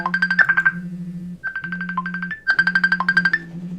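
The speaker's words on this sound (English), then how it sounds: "Oh, look, somebody's calling. It's a phone call." An incoming phone call rings as a bright, repeating electronic melody in two bursts with a short pause between them, loud and close, with no voices.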